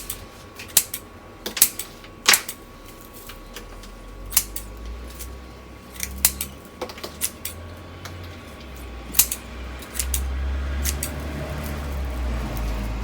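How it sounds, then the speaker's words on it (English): Scissors trim plant pieces for a gecko terrarium, giving a scattering of crisp, close snips at irregular intervals over a low background hum. "I'm just going to go ahead and do that quickly with a pair of scissors"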